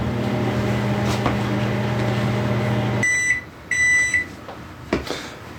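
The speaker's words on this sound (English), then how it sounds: "this is just on the normal cycle heat that the microwave just has" A microwave oven cooking beets on its normal heat cycle hums steadily for a few seconds, then stops and gives a series of short electronic beeps, followed by a faint click.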